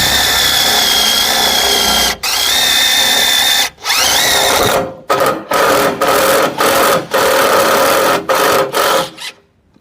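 A power drill boring holes through a thick steel beam, roughly 250 by 125 mm, the whine running continuously for several seconds, then breaking into short repeated bursts as the bit is started and stopped; loud and close, no talk.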